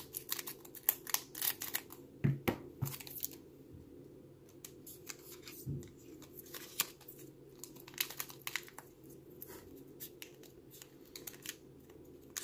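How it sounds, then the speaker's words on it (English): Scissors snipping open a Pokémon Dragon Majesty booster pack, with crisp crinkling of the foil wrapper and a few sharp cuts near the start, fairly quiet and close with no talking. "You're cutting with scissors."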